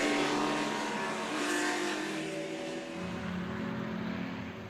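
Vintage race cars in SVRA groups 5 and 7 roar around Virginia International Raceway, with a loud, steady engine drone that shifts pitch as the cars pass and fades slightly at the end.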